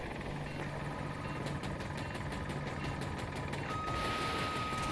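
Attack helicopter in the Battlefield 2042 video game, a steady whirring rotor and engine drone with rhythmic chopping pulses, continuous and moderately loud, with a high electronic tone entering late.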